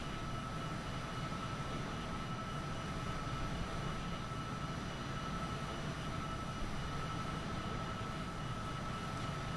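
Aircraft in a flight video game cruising while overspeeding toward 500 knots, a steady unbroken engine and air drone filling the whole stretch at constant level with no talk.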